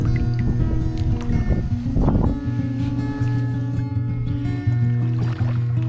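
A kayak motoring out across open water, its steady engine drone humming in stacked harmonics throughout, with a brief splashy burst partway through and constant wind and water wash close to the microphone.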